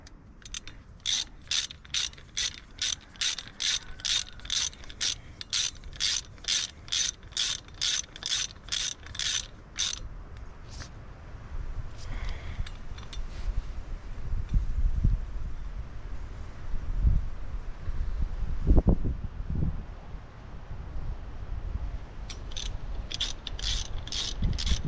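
Ratchet clicking in steady rapid bursts as screws are turned into a hub to push a Detroit pulley free, close and clear, pausing partway before quieter mechanical clunks, wind noise and a final run of clicks.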